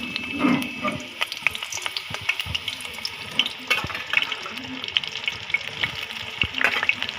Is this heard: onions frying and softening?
yes